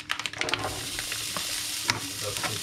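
Bacon goes into a hot pan in a home kitchen and begins to sizzle and crackle, with a few sharp clinks and scrapes of utensils on the pan at the start, steady frying underneath.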